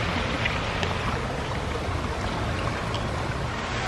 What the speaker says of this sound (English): We'll leave you with this lovely, tranquil waterfall.